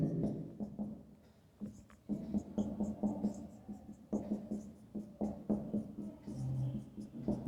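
Chalk or marker writing an equation on a classroom board during a chemistry lesson on alkynes, a series of short scratchy strokes in uneven bursts, fairly close and faint, with no talk over them.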